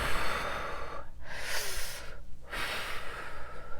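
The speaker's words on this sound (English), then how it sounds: "just breathing." Deep, slow breaths during yoga, two long inhale-exhale cycles with clear pauses between them, heard close and alone without talk.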